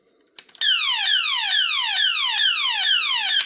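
A Transformers G1 Shockwave toy from the 1980s gives out a loud, piercing electronic siren: rapid falling chirps that repeat steadily for about three seconds after a couple of soft clicks from the switch.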